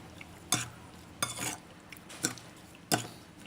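Sour spicy salad being tossed with fish sauce, four separate scraping stirs of a spoon against a bowl, sharp and close, with quiet pauses between and no talk.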